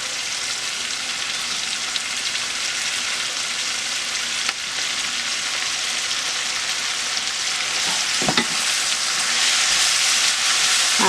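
Cabbage frying in a pan on a stove at medium heat, a steady loud hiss and crackle that swells near the end with a brief stirring clatter, no one speaking.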